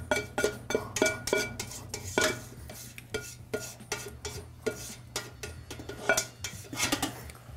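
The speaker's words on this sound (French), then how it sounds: "Là, je vais tout vider parce que je vais réutiliser cette casserole-là pour faire ma bisque." A saucepan being emptied in a home kitchen, with a rapid series of sharp metallic clanks and scrapes of a utensil against the pan, loud and close, continuing throughout without talk.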